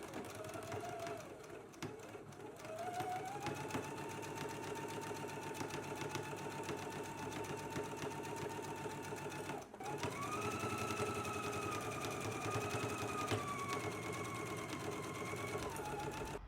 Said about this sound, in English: we can go ahead and stitch at a 5/8 of an inch seam allowance